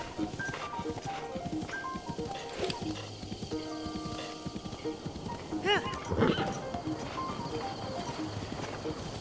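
A horse in the game Breath of the Wild gallops with rhythmic hoofbeat clip-clops, and it neighs or whinnies midway. Game music and ambience sit underneath.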